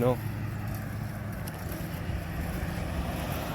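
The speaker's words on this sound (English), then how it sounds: "Kind of have to watch for the traffic" Road traffic rumbles steadily throughout, a constant low roar of passing vehicles, with a brief voice at the very start.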